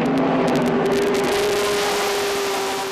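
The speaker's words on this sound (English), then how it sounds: "This is sports car racing." A sports car races past at Mazda Raceway Laguna Seca, its engine a loud sustained high-pitched wail, holding a steady note before the pitch drops slightly as it passes.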